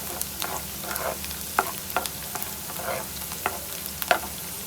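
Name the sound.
spices frying in a pan for chicken karahi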